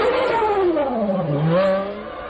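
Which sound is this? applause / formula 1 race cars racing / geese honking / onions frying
formula 1 race cars racing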